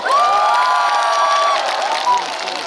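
Crowd at an outdoor cosmos festival concert cheering and applauding for a singer, loud sustained whoops and shouts over clapping, with a long sung or held voice tone running through.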